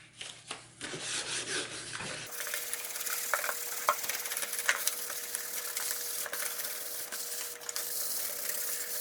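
Sandpaper of 1500 grit rasps steadily back and forth across a plastic face shield lens, a faint, even scrubbing that continues without a break after a few brief handling knocks at the start.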